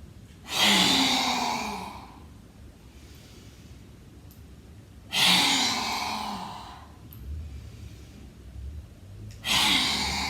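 Forceful open-mouthed lion's breath exhalations during a home hatha yoga class, three loud breathy whooshes of about two seconds each, spaced several seconds apart, with quiet gaps between them.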